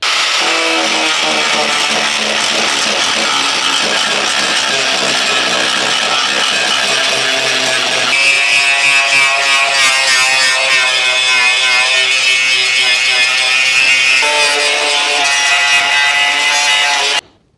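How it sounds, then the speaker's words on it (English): An angle grinder works a damaged car body panel down to bare metal, a loud continuous abrasive grinding with shifting pitch that runs steadily for most of the time and then stops abruptly. "what I'm going to do now is just grind that whole area, just grind it from about here all the way down to here, make it all bare metal"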